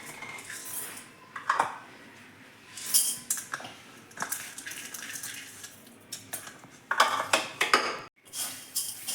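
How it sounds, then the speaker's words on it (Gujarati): Dry lentils and rice mixed by hand in a bowl for vegetable handvo batter, producing bursts of gritty rustling and grain clatter against the bowl, separated by short pauses. "આવી રીતે આપણે ચારેય વસ્તુને મિક્સ કરી લઈશું."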